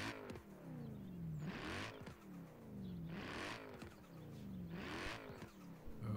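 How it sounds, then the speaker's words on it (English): A Mercedes C63 AMG drift build in Forza Horizon 4 revs up repeatedly, engine pitch climbing in three or four sweeps with a turbo whoosh after each, close and steady, without talk. "Oh, that's a new turbo noise."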